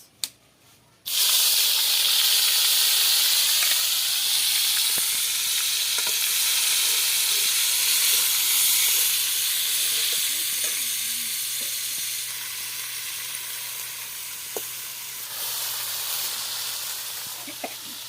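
Onions drop into hot white oil in a wok and break into a loud, steady sizzle that lasts throughout, with occasional light clinks of a spatula.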